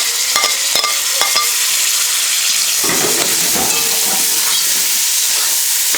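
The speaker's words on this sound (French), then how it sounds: "je mélange bien les tomates avec les épices" Tomatoes with spices are stirred in a hot cooking pot: a steady, bright sizzling hiss runs throughout, with a few sharp scraping clicks from the utensil near the start and more stirring scrapes toward the end.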